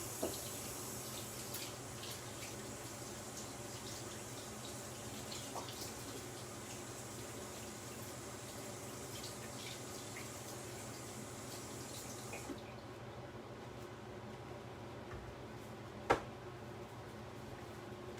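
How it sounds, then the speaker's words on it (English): Kitchen tap running steadily into a sink while hands and a knife are rinsed under it, a continuous moderate hiss of water for about twelve seconds before it cuts off, then a single sharp clink. "Then I'm going to rinse off my hands. Actually, I'm going to rinse off the knife as well."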